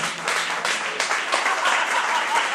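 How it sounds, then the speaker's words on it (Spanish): An audience in a bar applauds a stand-up comedy monologue, a dense steady patter of many hands clapping for a couple of seconds. "Dame un aplauso, Robert."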